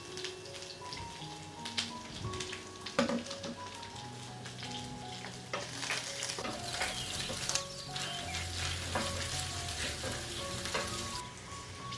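Ginger, garlic, green chili and curry leaves fry in hot oil, a lively crackling sizzle with sharp pops and spits, louder bursts early on, settling into a steady hiss.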